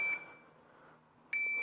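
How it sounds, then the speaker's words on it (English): A shooting shot timer gives two short, bright electronic start beeps, one at the start and a second about a second later, separated by quiet room hush. "It's gonna go first beep,"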